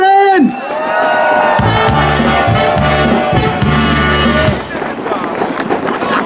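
A huge carnival crowd at Neumarkt in Cologne roars and cheers loudly and continuously, filling the space, with whistles and a sustained tone cutting through the din.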